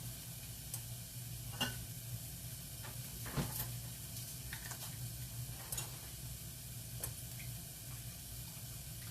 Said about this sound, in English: mix that up still, browning the flour a little.